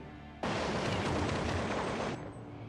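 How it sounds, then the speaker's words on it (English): Sustained burst of gunfire from a first-person shooter video game match, a loud dense volley that starts abruptly, rattles on for nearly two seconds, then cuts off, with no talk over it. "Shag's opponent sneaks up behind him and, in a hail of gunfire, cuts Arcane down."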